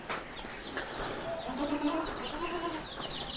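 Soft clucking from hens and small chicks, with faint peeping and background farmyard noise, fairly quiet and steady throughout.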